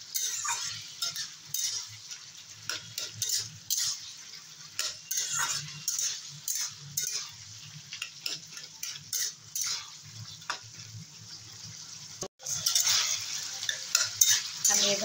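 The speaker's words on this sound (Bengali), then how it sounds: "আমি এভাবে নাড়তেই থাকবো" A spoon repeatedly scrapes and clinks against a pan as pointed gourd curry is stirred, with an irregular rhythm of strokes over a soft sizzle, close and fairly quiet throughout.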